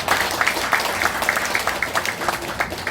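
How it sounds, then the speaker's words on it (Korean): An audience at a special lecture gathering claps in thanks, a dense patter of many hands at moderate volume that continues steadily, with some voices underneath. "이번에 정말 감사의 박수를 드립니다"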